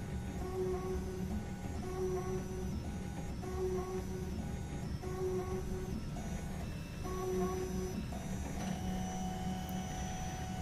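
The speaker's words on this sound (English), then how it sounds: "The extruder head will extrude all the printing material through the nozzle, and for that reason it swipes its nozzle over rubber material." An AIO Zeus 3D printer runs its cleaning cycle, the extruder purging material and wiping its nozzle over rubber, giving layered motor whines and stepped mechanical tones that shift every second or two at moderate volume.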